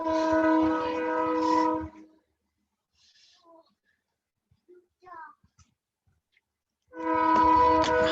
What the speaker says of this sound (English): as the train blares in the background